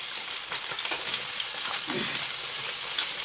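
Onions and bacon frying in a pan give a steady, close broadband sizzle with crackling that carries on without a break, and no one speaks.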